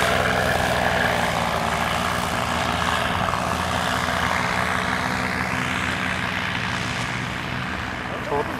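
Paramotor engine running steadily in the open with a continuous propeller drone and droning hum, loud and close, while people talk over it.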